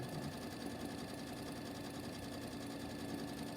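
Sewing machine stitching a pillowcase with cotton quilting thread at a short piecing stitch length, a steady fast mechanical whir and rhythmic needle clatter running continuously and evenly at close range.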